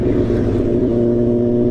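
A vehicle engine drones loud and close, a steady low rumble with a slight rise in pitch as the driver speeds up.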